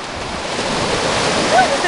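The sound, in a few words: sea waves at the shore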